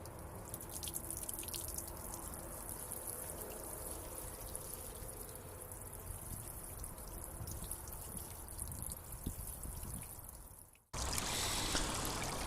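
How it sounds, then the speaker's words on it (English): Rainwater pours steadily outdoors to soak a small pond plant tub, a continuous trickling stream that runs for about eleven seconds, breaks off briefly, then resumes with a louder, brighter splash. "I'm going to use that to give this little tub a thorough soaking before I sit it into the pond."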